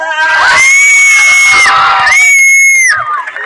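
Crowd at a community gathering cheering and shouting loudly, sustained high-pitched whoops and screams rising and falling close by.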